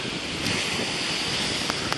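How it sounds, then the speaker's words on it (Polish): Sea waves wash onto a beach at Brzeźno in Gdańsk in March, with steady broadband surf noise and wind buffeting the microphone throughout, a couple of brief crisp spikes near the end. "posłuchać szumu fal"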